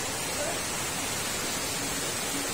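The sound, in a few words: heavy rain and flood water flowing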